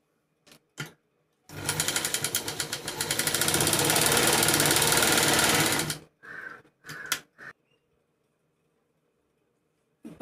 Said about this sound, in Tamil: இப்போ நம்ம கிராஸ் வந்து புடிச்சு தச்சாச்சு